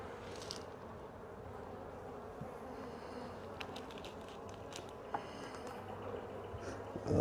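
Honeybees buzzing steadily inside an opened farmhouse beehive in early season, a dense close hum with individual bees flitting past near the listener and a few light knocks of frames.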